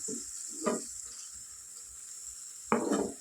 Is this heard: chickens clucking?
no